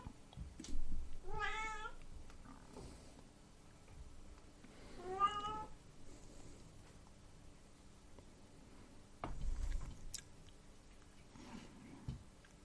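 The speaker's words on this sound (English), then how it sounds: "Hello, cat." A cat meows twice, distinct drawn-out calls a few seconds apart, followed later by a shorter one, all fairly close against a quiet room with faint ticks and shuffles.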